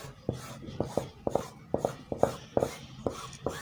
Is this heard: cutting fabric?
yes